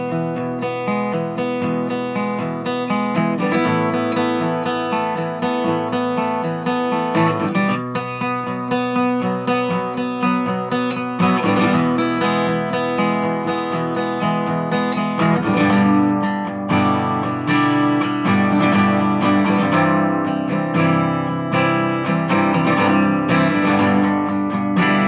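Acoustic guitar arrangement of a song, played in an easy lesson style; full, steady strummed chords ring continuously for about 25 seconds with no talking.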